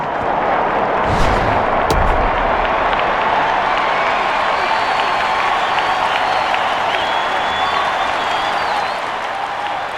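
A home baseball crowd in MLB 09: The Show roars steadily after back-to-back hits, a dense, loud wash of cheering and noise filling the stadium without letup.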